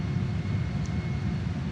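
Steady low roar of a JAS-39 Gripen jet engine throttling back during the landing flare, a continuous droning rumble with a faint whine above it and no voices.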